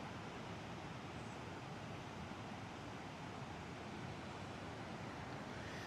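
A river flows beside a historic trestle as a steady, broadband rush of water that continues unchanged throughout. It sits at a moderate level with no talking.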